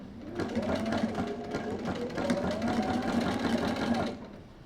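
Sewing machine stitching straight through a bulky 80 by 100 hexagon quilt, a steady continuous mechanical whir with rapid needle rhythm running nearly the whole time, close and fairly loud, stopping just before the end.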